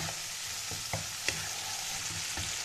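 Masala spice paste being fried in a pan for rohu fish curry, a soft steady sizzle with periodic spatula taps and scrapes as it is stirred, heard alone without talk.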